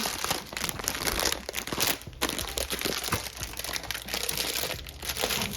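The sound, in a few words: opening a spaghetti package, plastic crinkling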